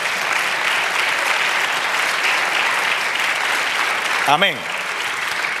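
Church congregation applauding during a Spanish-language sermon, dense steady clapping throughout, with a single spoken exclamation from a voice near the end over the applause.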